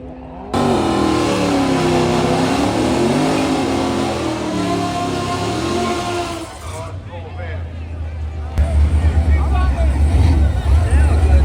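A loud, screaming drag racing car engine with headers revs up and down at Carolina Dragway with rising and falling pitch, close by, then drops to a deep rumble amid crowd noise.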